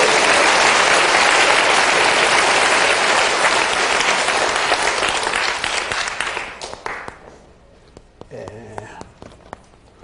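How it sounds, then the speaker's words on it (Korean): A church congregation breaks into loud, dense applause that holds steady, then thins out and fades to near quiet after about six seconds. "감사의 영광의 박수를 힘차게 하고 갑시다"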